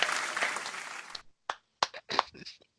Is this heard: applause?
yes